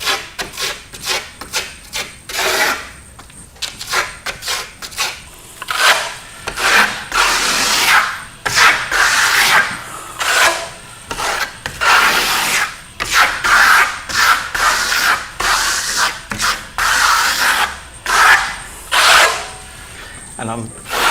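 A steel trowel drags FirmoLux Piatto plaster finish across a wall in repeated rhythmic scraping strokes, close and fairly loud, with short pauses between passes.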